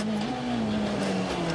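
Citroën DS3 rally car at WRC Rally France Alsace 2012, racing flat out through vineyards on a fast stage, its engine holding a steady high-revving drone close by for the whole moment.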